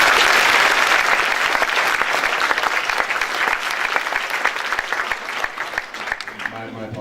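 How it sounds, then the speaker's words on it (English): A conference audience of delegates gives speakers a round of applause, loud dense clapping at first that gradually thins into scattered claps as it dies down. "we should all give a round of applause to all the speakers that have come here today"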